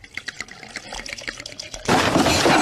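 Vodka poured out as two shots: a short liquid splash and gush, then a louder sustained pour filling a glass that rises near the end, heard close.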